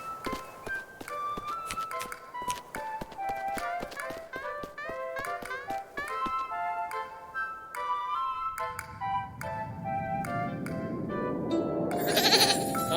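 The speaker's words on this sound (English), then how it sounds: "Oh my, what a cute little goat." A small goat bleats among livestock in a musical barnyard scene, with short bleats over a busy backdrop of tonal plucked notes and percussive hits, plus a rising wash of noise toward the end.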